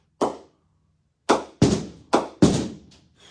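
Five crisp wooden knocks of an SS TON cricket bat striking a ball, spaced irregularly, close and loud with quick decay.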